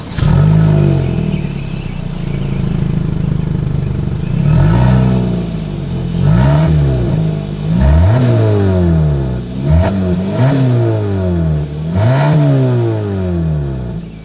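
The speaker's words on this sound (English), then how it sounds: "As always, here is that exhaust clip." A 2026 Kia Sportage engine and exhaust, loud and close, idling then rising through several revs with rolling pitch sweeps and short drops between, no voices over it.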